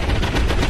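Rapid automatic gunfire in XCOM 2: War of the Chosen, a dense, loud burst of shots fired at a civilian, continuous through the short moment.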